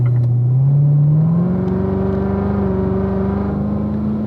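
Sports car on a racetrack easing through turn 6 under light braking, its engine droning loud and steady with pitch rising gradually as it carries speed through the corner, heard from inside the car.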